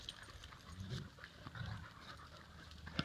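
Dogs panting in short, breathy bursts near the microphone, with low snuffling pulses around one and two seconds in and a sharper sound at the end, outdoors with no talk.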